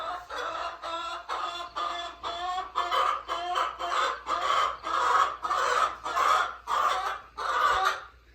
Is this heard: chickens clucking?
yes